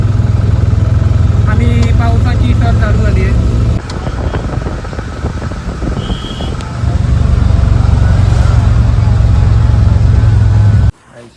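A car carries passengers along village roads, giving a loud, steady low engine rumble that dips briefly near the middle and cuts off near the end. Voices talk over it.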